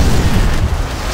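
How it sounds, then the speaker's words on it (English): A grenade blast in Call of Duty: World at War gives a loud, sustained, rumbling explosion whose low boom fills the whole moment with no speech over it. "Grenade! Is that another grenade?"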